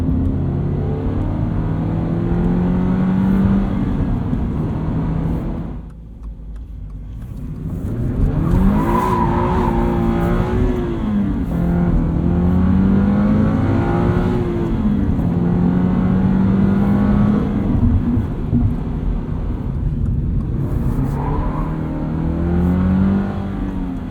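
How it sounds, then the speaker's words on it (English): A 2022 Subaru BRZ with a six-speed manual revs repeatedly while driving, pitch climbing and falling through gear changes, loud and close, with a brief drop near the middle. "A lot of cool noises coming from this engine."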